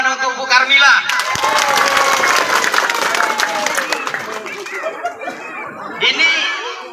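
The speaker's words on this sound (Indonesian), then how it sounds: "Tepuk tangan untuk Bu Karmila." An audience at a village head candidate's campaign meeting in Tanjung Ibus applauds Bu Karmila, with clapping mixed with crowd chatter and a little laughter, and voices speaking over it.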